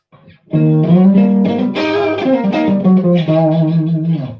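A Les Paul electric guitar is played through its coil-tapped neck pickup, giving a bright, twangy single-coil tone: a few sustained chords and notes ring out loudly and alone after a brief lead-in.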